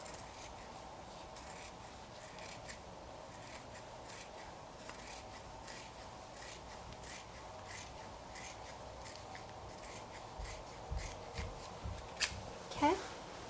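Scissors snip through the excess fabric of a handmade pillow case, quiet rustling and faint cutting strokes that end in a few louder, closer snips.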